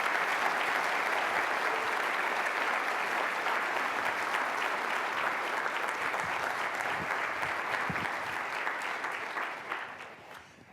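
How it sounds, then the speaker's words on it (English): A large audience applauds for a sustained stretch, dense and even clapping at a conference welcome that holds steady before tapering off at the end. "join me in a round of applause for all of the people that were involved in this"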